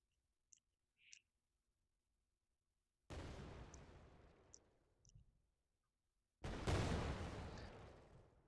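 A fire wand in the game End of Days launches explosions: two sharp bursts, each a loud crack that decays into a rushing tail over a couple of seconds, separated by near silence with a few faint clicks.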